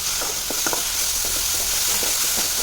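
Chicken gravy masala with potato and coriander sautés in a pan, a steady bright sizzle broken by repeated scraping stirs, close and alone with no talking.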